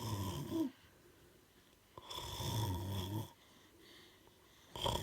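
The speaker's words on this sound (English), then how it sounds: "Let's see him snoring." A dog snores in loud, rasping bursts, three close breaths separated by quiet pauses, each drawn-out snore rumbling low with throaty rattle.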